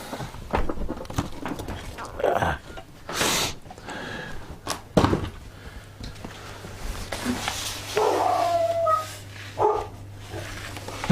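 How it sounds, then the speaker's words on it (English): Dogs bark in a garage-like indoor space, with a few loud sharp barks and yips spread through the clip, some whimpering, a low steady hum underneath and occasional thuds. "Shut up, you silly dogs."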